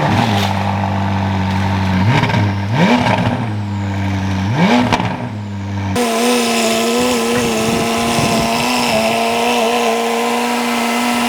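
A McLaren 570S engine with a new titanium exhaust starts lukewarm, revs sharply twice with a raspy, throaty exhaust, then settles into a loud, steady idle close by.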